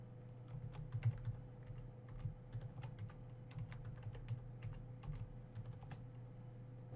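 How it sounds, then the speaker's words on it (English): Quiet, rapid typing of a password on a computer keyboard, a steady stream of soft key clicks over a low electrical hum. "Enter a password for use on Binance in both of the password fields."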